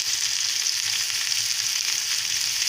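Pieces of fish shallow-frying in oil in a home kitchen pan, giving a steady, even, close sizzle that continues without a break and with no talking.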